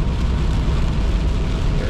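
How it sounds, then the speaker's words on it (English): Rain from a passing tropical storm beats against a window, heard from indoors as a steady, dense, close hiss with a low rumble and no voices. "You can probably hear the rain hitting the window."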